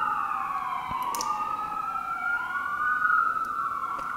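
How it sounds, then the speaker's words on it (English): Ambulance sirens passing outside a residential neighborhood, a wailing tone rising and falling at moderate distance over a quiet indoor background, with a few faint clicks nearby. "Pardon the sirens, by the way."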